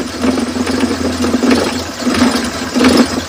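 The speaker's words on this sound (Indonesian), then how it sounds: "sekarang kita coba nyalakan mesinnya, kita dengerin suaranya" A cold 2005 Suzuki Carry 1.0 engine idles steadily with a low, even rumble and a faint ticking rhythm, loud and close, no voices.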